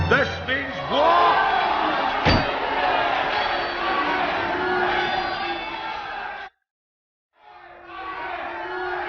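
Rival clans in a fairy-tale story brawl, with a loud crowd yelling battle cries and a metallic clang ringing out early. The din cuts off abruptly into brief silence before a voice starts speaking.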